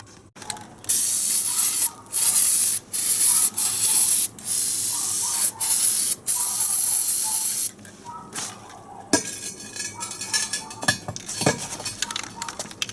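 Aerosol paint remover sprayed in repeated hissing bursts onto a corroded alloy wheel rim with thick paint layers, several sustained blasts followed by quieter handling clatter.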